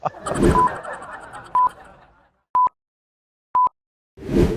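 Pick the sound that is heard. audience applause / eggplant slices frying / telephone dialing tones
telephone dialing tones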